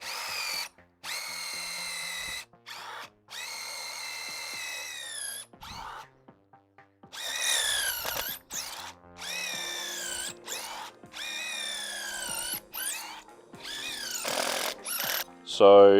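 A non-rotary-hammer power drill with an 8mm bit bores into limestone in repeated bursts, its whine rising and falling as it bites, with short pauses between runs; a voice speaks briefly near the end.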